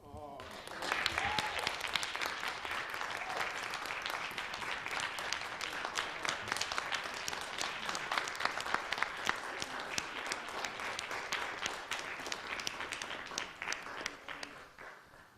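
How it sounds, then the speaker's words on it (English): A council meeting audience in Princeton applauds an honoree, Lance Liverman, with sustained crowd clapping of many distinct sharp claps, rising in the first second and holding steady before tapering at the end. "urge all to applaud and pay tribute to this extraordinary person."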